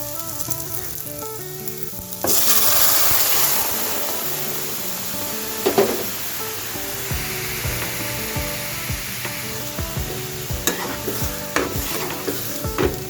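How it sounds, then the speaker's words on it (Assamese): Boiled arhar dal tipped into a hot pan, a sudden loud sizzle that settles into steady frying while a spoon scrapes and stirs, with clacking utensil knocks scattered throughout and no speech. "এতিয়া মই ৰহৰ দালিটো দি দিম।"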